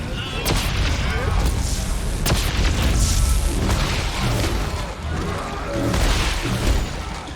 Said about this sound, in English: Oh, that blew him up.